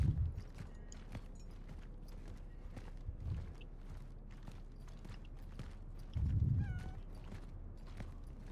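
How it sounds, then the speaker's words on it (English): A cat meows several times in the video game Cronos: The New Dawn, faint and distant over a low ambient game rumble, with a few short calls spaced apart. "Thought I heard a cat."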